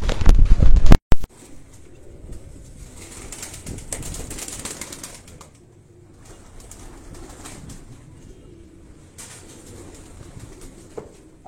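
A pigeon in a loft, with loud wing flapping and a sharp clatter at the start, followed by soft close cooing and rustling.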